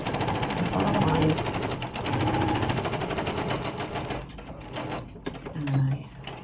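A sewing machine runs in steady bursts as it stitches a face mask seam with a back stitch, the motor hum continuing beneath a speaking voice before it stops near the end.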